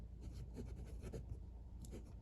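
Fine 14-carat nib of a Pilot E95s fountain pen scratching across paper in quiet, close strokes, a soft run of short scribbles over about two seconds.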